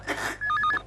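An electronic telephone ring in a Hindi sitcom home scene: a short, close warbling trill repeating in quick pulses, clear and alone with no talk.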